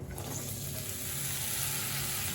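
Steady, dense sizzle of beans frying in hot oil, a continuous crackling hiss with no voices.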